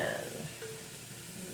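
Garlic sautéing with onions in a pan for Moroccan harira soup, a soft steady sizzle that stays faint and even throughout.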